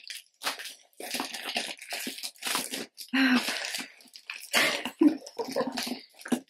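A small cardboard box holding a monthly book subscription package, torn open by hand without scissors: close, irregular bursts of ripping, crushing and crinkling cardboard, with short pauses between pulls.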